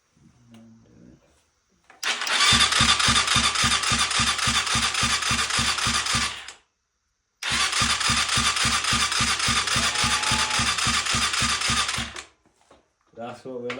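A small go-kart engine fires up and runs with a loud, steady rapid putter, cuts out briefly, then restarts and runs again before stopping; a voice is heard faintly at the start and end.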